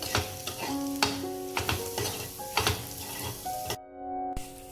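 Drumstick pods frying with spice powders in a yogurt-based dry masala, a close sizzle with repeated scraping stir strokes at an irregular pace, cutting out briefly near the end before a final stir.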